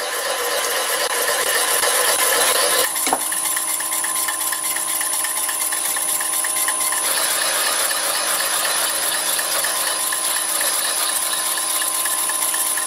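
A drill bit bores through wood while making chuck wedges, giving a continuous loud grinding whine that shifts pitch briefly partway through and then carries on steadily.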